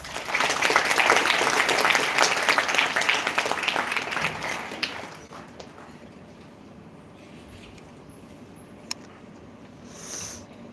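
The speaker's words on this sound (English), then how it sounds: "Let us show our appreciation with a heartfelt round of applause" An audience at a college women's empowerment event applauds in a dense burst of clapping that fades out after about five seconds, leaving quiet room noise.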